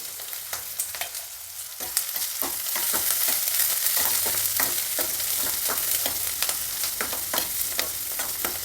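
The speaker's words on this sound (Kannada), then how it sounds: "ಈರುಳ್ಳಿ ಸ್ವಲ್ಪ ಹುರಿದಿದ್ದಾಯಿತು" Onion and cumin fry in a pan with a continuous close sizzle, sharp stirring clicks and scrapes cutting through at irregular intervals, loud and steady and without any voices.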